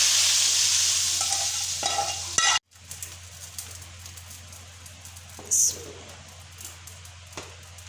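Loud, steady sizzling of cumin-tempered spices frying in hot oil for dal, with a sharp cut partway through, then quieter sizzle and occasional clinks of a utensil against the pan.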